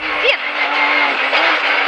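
A Porsche 911 GT3 engine pulls hard while driving, a loud, steady mechanical roar that rises in pitch as it accelerates, with a voice talking over it.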